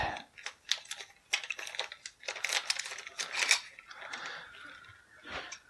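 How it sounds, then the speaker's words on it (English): Taped cardboard packaging for a G.I. Joe Rise of Cobra toy being pulled open, with close crackling, tearing and rustling bursts in an irregular run, loud and alone. "So let's go ahead and just open this up now. It's also taped shut"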